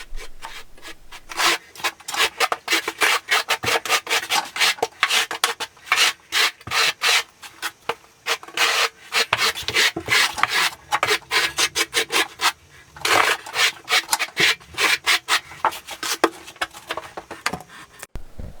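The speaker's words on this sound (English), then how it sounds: "I go over and notch my tinset with my trowel" Half-inch square-notch trowel raking thinset mortar across Ditra membrane for a large-format wood-look plank tile install, a steady run of close, loud rasping scrapes in quick repeated strokes with no talk.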